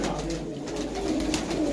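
Pure old-line pigeons in a loft coo in low, soft, repeated calls, close by, over a steady background hum.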